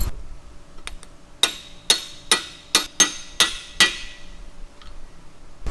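Pinion nut being tightened against the crush sleeve on an AMC 20 axle from a Jeep CJ-7 gives a run of about eight sharp, close metallic clicks or knocks, evenly spaced, with quiet between them.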